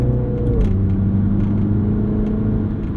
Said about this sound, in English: Overall though, exhaust note, that sounds good.